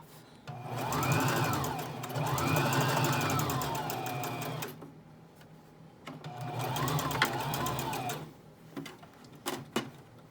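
An electric sewing machine sews fringe onto a dress seam, whirring steadily in two long runs separated by a short pause, close and clear, with a few light clicks at the end.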